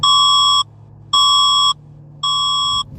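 Philippines emergency alert system alarm: three loud, identical electronic tones, each about half a second long, separated by short gaps, with a steady low hum underneath and no voices.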